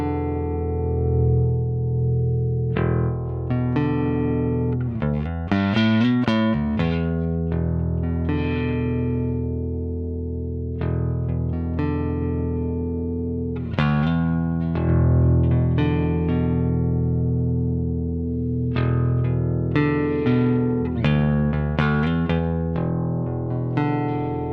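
Bass guitar played through SansAmp and Darkglass distortion, gritty sustained low notes with plucked phrases and ringing tails, alone and close with no talk.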